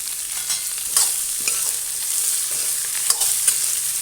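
Onions and other ingredients for banana flower vadai sautéing in a pan, a steady broad sizzle with stirring scrapes and a few sharper clatters, close and fairly loud, with no talk.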